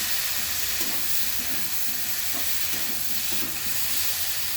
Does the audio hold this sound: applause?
no